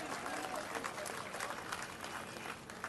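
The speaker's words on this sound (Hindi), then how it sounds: "जरा उनके सम्मान में जोरदार तालियां बजाओ सब मिलकर, पीछे तक" A large crowd at a political rally breaks into continuous, dense applause, a steady wash of clapping with a voice faintly heard beneath it.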